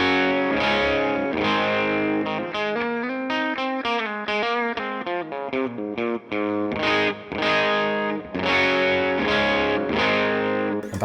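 Electric guitar played through the Amplitube 5 amp simulator on its dirty channel, with a distorted tone and chorus-like shimmer, strummed chords and quick runs at steady loudness with brief gaps.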